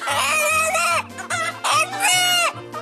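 A rooster in Sangli crows over and over in short, loud bursts, with its repeated calls sounding like "kaka kaka" and no other sound around it.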